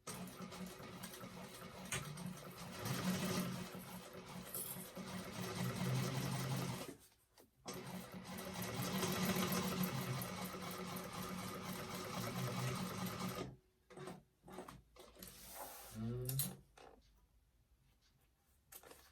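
A sewing machine stitches a quarter-inch seam along the short side of a handbag in long steady runs, pausing briefly near the middle, then breaking into short stop-start bursts toward the end; no one speaks.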